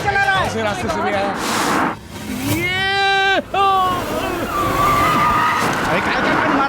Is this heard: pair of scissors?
no